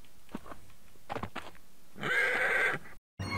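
A horse in the Survivalcraft 2 video game gives a single loud, shrill whinny, preceded by a few soft thuds and clip-clop noises, then the sound cuts briefly to silence.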